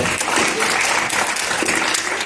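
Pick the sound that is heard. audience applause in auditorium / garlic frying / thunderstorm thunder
audience applause in auditorium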